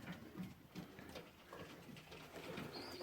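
Young pigeons at an allotment give soft, low coos in a repeated rhythm, fairly faint against a quiet outdoor background. No one speaks.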